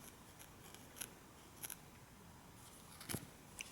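Scissors snipping crochet yarn, several small sharp metallic snips spaced irregularly, close but faint against a quiet room hiss, with no talk.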